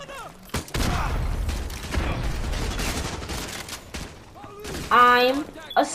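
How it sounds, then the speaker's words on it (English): A sustained stretch of rapid gunfire fills a Call of Duty Modern Warfare Remastered firefight, close and dense for several seconds, then thins out as a voice cuts in briefly near the end. "Someone shooting me from high?"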